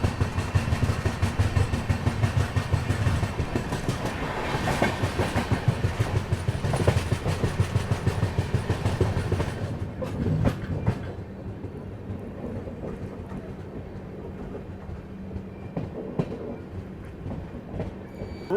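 The Kongu Express, hauled by a WDG 4 diesel locomotive from Kazipet shed, arrives at a station. Wheels clack loudly and rhythmically over the rails for about ten seconds, then ease into quieter rumbling and scattered clanks as the train slows.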